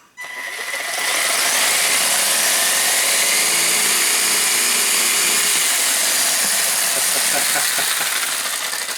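A Kyosho Monster Tracker RC monster truck with a Titan 12-turn motor and unglued tyres, running flat out: a loud, steady, high-pitched electric motor whine with gear hiss that starts abruptly and holds for several seconds, close by.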